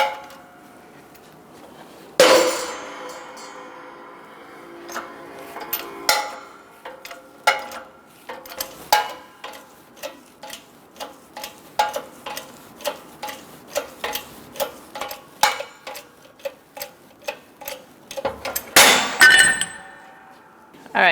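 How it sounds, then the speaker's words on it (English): A shop press pushes the rest of a rear wheel bearing out of a 2002-2006 Honda CR-V knuckle, using a socket as a driver. Metallic clangs and ticks repeat steadily with a louder clank near the start and another near the end. "we're going to press the rest of the bearing out of our knuckle using a press"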